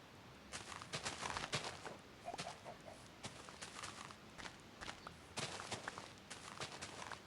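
Chickens cluck in the video game Minecraft, with short bursts scattered across the clip among steady in-game footstep crunches, at moderate level with no talking.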